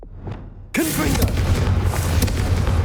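A Confringo spell goes off in Hogwarts Legacy, a sudden loud explosive boom after a near-silent lead-in, followed by a sustained roaring crackle of fire and debris.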